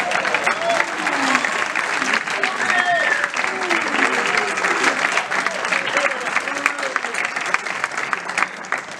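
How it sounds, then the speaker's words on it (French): An audience applauds Pierre Lagarue at an anniversary celebration, steady clapping running the whole time with some voices and whoops mixed in. "Oui, vous pouvez l'applaudir."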